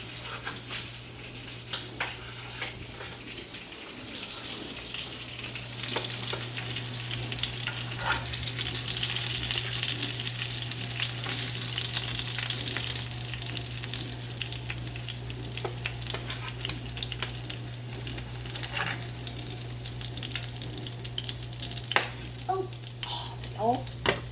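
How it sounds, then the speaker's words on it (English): Onions sauté in oil left from pork chops, a soft steady sizzle and frying hiss with occasional stirring scrapes and light pan clinks, moderately quiet and continuous. "And then I'm going to start sauteing the onions in the oil from the liquids"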